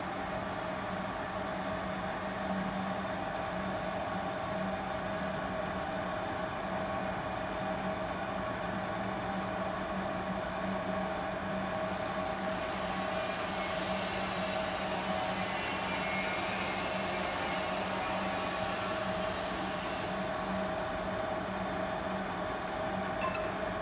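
Hydraulic compression testing machine rated up to 100 tons loading a brick, a steady low motor hum and drone continuing evenly throughout, with a brighter hiss rising midway and then easing off.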